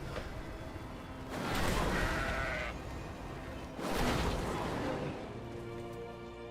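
Sheep in the World of Warcraft video game bleat in two long, loud bursts, each lasting a couple of seconds and separated by a quieter stretch, with no talking over them.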